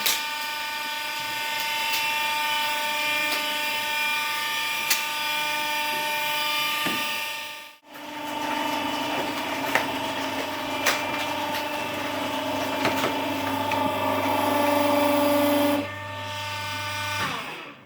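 A Sylach 18-tonne recycling baler press runs with a steady, fairly quiet mechanical whine and motor hum. The sound dips briefly once, then carries on with a lower drone joining near the end.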